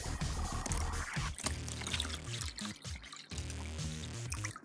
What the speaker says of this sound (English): And then in goes his water.